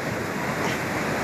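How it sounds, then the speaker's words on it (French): Ocean surf on a beach at Kribi, Cameroon, a steady rushing wash of breaking waves with wind noise, fairly loud and alone with no talk. "Oh, une grande vague."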